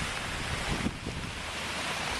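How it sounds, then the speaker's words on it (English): Strong wind and rain outdoors while a Multiplex Fun Cub model plane flies, a dense continuous roar of gusting air buffeting the microphone, steady and loud throughout with no talk. "It's windier than I thought."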